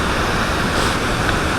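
A large waterfall on Big Beaver Trail roars as a loud, dense, even wash of falling water that fills the whole moment with no voices.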